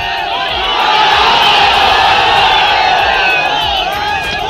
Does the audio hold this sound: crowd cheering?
yes